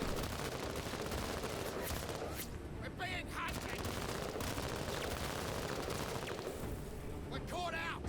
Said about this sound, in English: These guys gonna open fire.